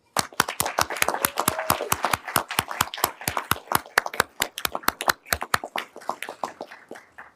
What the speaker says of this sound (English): join in a round of applause for those who helped make this day possible for them